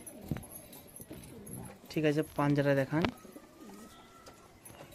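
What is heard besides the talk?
pigeons cooing and flying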